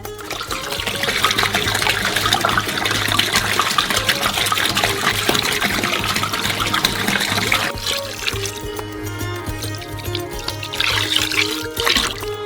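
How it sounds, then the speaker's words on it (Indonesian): Water poured steadily into a large cocoa mixture for a giant homemade Ferrero Rocher, a loud close splashing trickle that runs for several seconds and then thins to a lighter dribble. "Saat semuanya sudah tercampur rata, tuangkan air yang tersisa"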